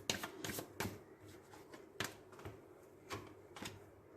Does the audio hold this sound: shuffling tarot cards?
yes